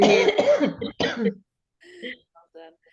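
A person coughs and clears their throat several times up close, followed by a few faint, scattered sounds.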